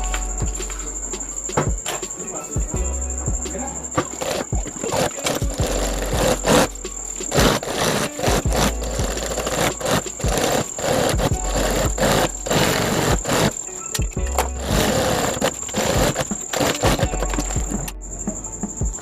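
Sewing machine stitching a homemade travel bag, a rapid mechanical rattle running in bursts with short pauses and a constant high whine behind it.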